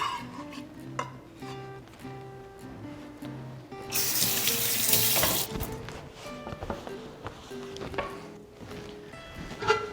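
Tap water rushing into a cooking pot for spaghetti in a home kitchen, a bright steady gush for a couple of seconds between soft clinks of utensils and pans.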